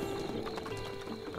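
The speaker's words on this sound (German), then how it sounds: "Da sind Pferdis." Horses at the Twin Peaks stable in The Legend of Zelda, with faint, brief clip-clopping hooves and a soft snort-like sound, no talk.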